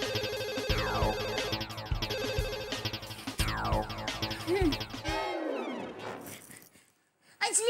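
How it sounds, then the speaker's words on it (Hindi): A telephone rings on and on with no one picking up, a busy tonal ringtone that fills the clip before cutting away near the end, with someone speaking over it. "फोन उठाइए।"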